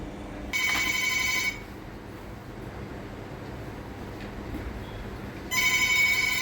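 A telephone rings indoors in two electronic bursts, each about a second long, separated by a few seconds of quiet room noise, clear and fairly close.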